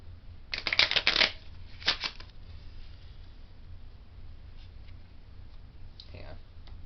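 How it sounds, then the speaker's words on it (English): A deck of playing cards being shuffled during a simple card trick, a short riffling burst followed by a brief second flutter, close and fairly quiet, then near silence. "That's a much better shuffle."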